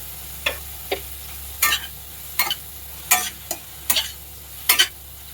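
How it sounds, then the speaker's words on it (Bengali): Onions frying until reddish brown, a faint low sizzle punctuated by a series of sharp spatula taps and scrapes against the pan, spaced about every half second to second. "পেঁয়াজটা ভাজতে দিব পেঁয়াজটাকে এবার লাল লাল করে ভাজতে হবে"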